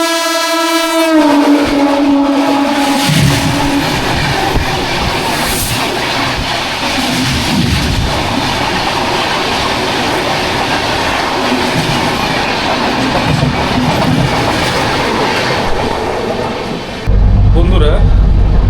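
A passenger train runs at speed on the Howrah to Bengaluru route, with steady loud rumble and rattle throughout. A horn sounds briefly at the start, and the noise shifts near the end.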